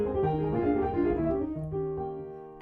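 Solo piano playing Chopin's Etude No. 10, a run of sustained, ringing notes with a steady flowing rhythm, heard close and clear with no talking.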